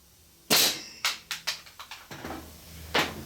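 A nail gun firing into wood framing: a run of sharp, loud pops, several in fairly quick succession and then a final shot after a short pause.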